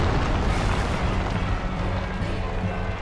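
Explosion during a boss fight in Dark Souls Remastered against Ornstein and Smough, a dense sustained rumbling blast with heavy low-end roar that holds loud and steady throughout, with no voices over it.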